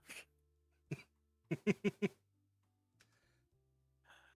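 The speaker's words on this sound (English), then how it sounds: "sorry, I was coughing, so I had to mute myself" A single cough, then a quick run of four harsh coughs in a row, fairly close, followed by quiet shuffling.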